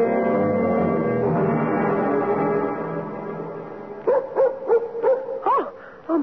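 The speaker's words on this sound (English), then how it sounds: "Oh, it's just Ruth's dog. I'll chain him up in the barn" A dog barks in a radio drama, a series of about six short, strained yips and barks near the end, following a steady low hum of background sound.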